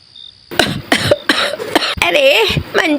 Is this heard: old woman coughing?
yes